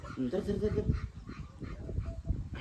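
A person sharply shoos a dog away at a village home, their calls mixed with the dog's short whimpers and yips close by, amid other talking.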